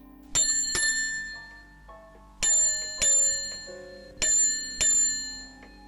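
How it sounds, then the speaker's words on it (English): A bell dings five times in pairs, bright and ringing with a lingering metallic decay, each strike crisp and close. "after ringing the bell for service, that is."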